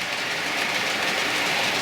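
A model train, the Pullman, running on a layout, heard as a steady, fairly close rolling rumble and hiss of wheels on track with no pauses or talk.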